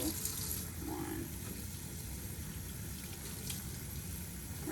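Water runs from a tap while hands are rinsed, a steady faint hiss of flowing water with brief splashy changes, quiet and continuous throughout.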